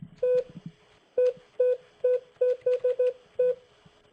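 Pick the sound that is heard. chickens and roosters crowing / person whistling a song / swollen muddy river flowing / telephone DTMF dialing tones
telephone DTMF dialing tones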